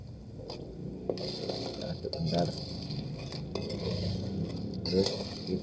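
Blood clams simmering in a boiling pot of seasoned broth are stirred, giving steady scraping and clinking of a utensil against the pot over a bubbling sizzle, close and continuous.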